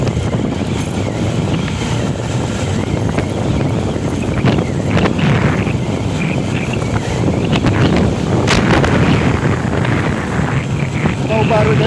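Strong wind buffets the microphone in continuous low rumbling gusts on a road between Novo Rio and Lagoa do Rancho, with faint voices and passing motorcycle noise in the background.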